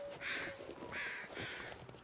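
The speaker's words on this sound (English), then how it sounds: "Crows." Crows cawing in a video game, two harsh, clear caws a short gap apart followed by a fainter third, quiet and set against a low background.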